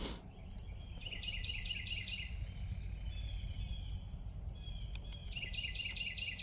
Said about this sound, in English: It's a beautiful songbird.